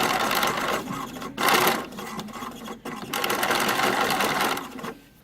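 A domestic sewing machine top stitching around a pressed shirt hem, a fast continuous whirring needle run with brief pauses, close and steady throughout.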